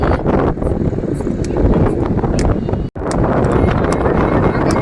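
Strong wind buffets the microphone at Madhavpur beach as a constant, loud rumbling roar with gusty texture, broken only by a split-second dropout, and no voices.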